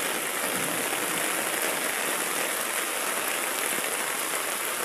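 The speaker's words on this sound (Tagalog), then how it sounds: "Medyo malakas ang tubig oh." Rushing typhoon floodwater roars continuously, a dense wash of splashing and hiss close by, steady throughout with no talking.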